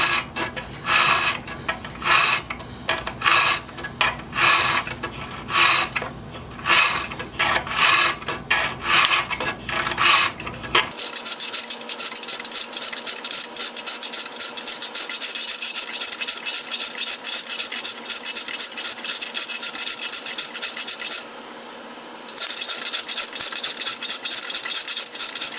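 An auger bit clamped upright in a vise is sharpened with a hand file, giving rhythmic rasping strokes at first, then a denser, continuous metallic scraping with a brief pause near the end.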